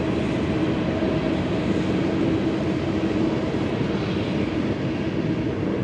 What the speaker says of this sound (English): It's obviously a cargo train.